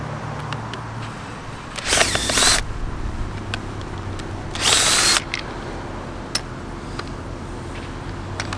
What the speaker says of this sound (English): Power tools for the win.